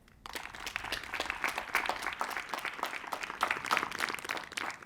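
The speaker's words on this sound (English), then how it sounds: "Clap your hands if there's someone here with you today that gives you hope" A graduation ceremony audience claps their hands together, a dense patter of applause that starts abruptly after a brief quiet moment and stays fairly even, heard from some distance.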